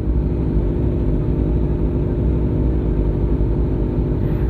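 Steady, loud engine drone from a sport motorcycle's exhaust, one of a Kawasaki Ninja ZX10R, ZX6R, ZX25R or Honda CBR250RR, holding a constant note for a few seconds with no clear rev rise and no voices.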